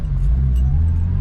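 A Lexus IS300 with a manual gearbox rolls along the road on a warm-up drive, its engine giving a steady, close, low drone with no voices over it.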